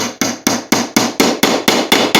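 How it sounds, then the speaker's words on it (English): A small hammer from a socket set kit taps a nail into a wooden short sword, nine sharp, evenly spaced strikes in a steady rhythm, close and loud with no talking. "I got this little rink-a-dink hammer out of"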